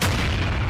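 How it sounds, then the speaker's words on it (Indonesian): A sudden loud explosion goes off behind a mountain, a broad booming blast that fills the short moment with a dense roar and no voices. "Tiba-tiba ada sebuah ledakan di balik gunung di belakang markas mereka."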